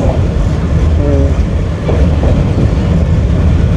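Train rolling across an old railway bridge that also carries buses and cars, a loud continuous rumble with a faint rhythmic clatter and a brief squeal, no voices.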